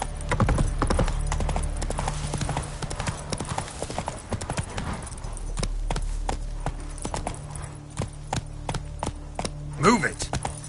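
Hooves of Roach, the horse in the video game The Witcher 3, clopping in rapid galloping beats over dirt, then slowing to scattered steps, ending with a whinny near the close. A voice speaks briefly.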